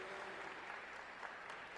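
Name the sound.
applause for the Algerian delegation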